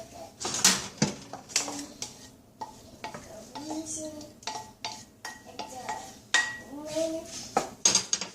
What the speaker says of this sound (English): I will add that mix that's in the pan to my kale salad